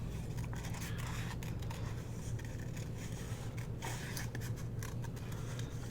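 Scissors trim a typewriter image out of patterned 12x12 scrapbook paper, producing a continuous run of close, crisp snips and scraping cuts over a steady low hum, with no speech.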